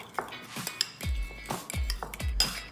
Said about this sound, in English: we're gonna stir in the chia seeds. Just gonna mix it around